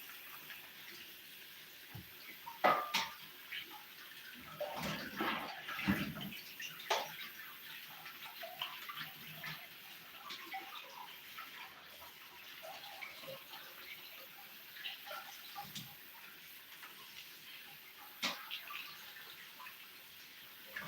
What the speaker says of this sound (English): With the tuna fish, just rinsing it.